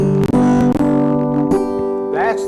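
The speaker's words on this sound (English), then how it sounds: "That's the standard banjo G tuning." A dobro banjo strummed in standard G tuning, with loud bright open strings ringing together in a few strokes and sustained chords, close up and with no voice over it.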